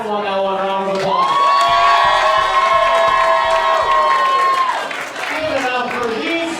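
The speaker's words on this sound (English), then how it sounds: "Well, guys, if you feel like Adam won that one round of applause." Roast battle crowd voting with loud cheering, whoops and clapping that swells steadily and holds at full volume for several seconds before easing, a close, dense comedy-club audience reaction.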